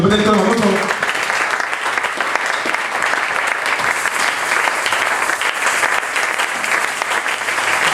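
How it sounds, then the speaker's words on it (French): Sustained applause from a church congregation during a sermon, dense clapping that starts after a brief voice and continues steadily throughout. "Applaudissez-vous le Seigneur."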